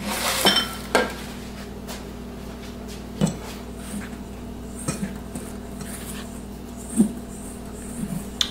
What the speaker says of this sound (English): So all we're going to do is mix this in really good.